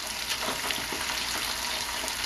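String beans fry in very hot oil for Sichuan-style cooking, a dense, steady, loud sizzle that stays constant throughout with no voices.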